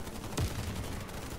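Gunfire in the online shooter Warface on a Halloween map: one sharp shot near the start over a steady low rumble of game noise, without voices.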